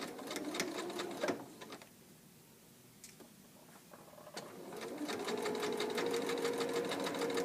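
A sewing machine runs a straight side seam down a pair of shorts, a close, rapid needle chatter in short bursts, then a pause, then a long steady run.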